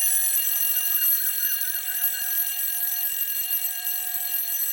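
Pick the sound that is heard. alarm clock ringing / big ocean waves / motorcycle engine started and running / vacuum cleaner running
alarm clock ringing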